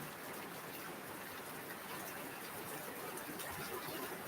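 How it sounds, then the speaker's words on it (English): Steady, soft rain falls continuously, a gentle even hiss of drops with no other sounds standing out. "I just like watching it rain."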